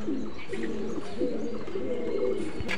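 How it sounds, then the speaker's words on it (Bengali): A male pigeon coos steadily at close range, repeated low throaty rolls forming a continuous, fairly loud burbling over faint background noise. "এটা নর কবুতর।"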